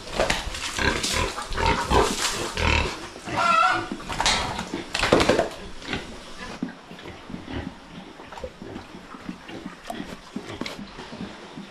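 Pigs on a farm pen, a sow and a boar, grunting and squealing in loud, irregular bursts close by for several seconds, then quieter snuffling and movement, with no talk.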